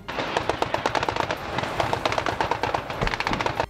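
Rapid, dense gunfire from soldiers in street fighting in Severodonetsk crackles continuously, loud and close, with quick bursts overlapping throughout.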